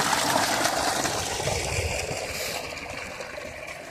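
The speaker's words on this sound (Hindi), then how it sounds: "ये आ गया पानी।" Water gushing from a running tubewell pump: a loud, dense, steady rush that eases slightly in level toward the end, with no voices.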